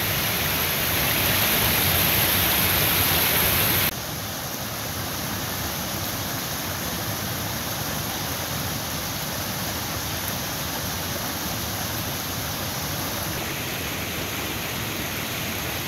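Steady, dense rush of backcountry waterfalls, loud and constant throughout with a slight drop in level after the first few seconds, no voices.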